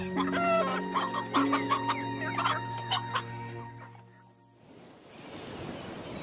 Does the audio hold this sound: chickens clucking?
yes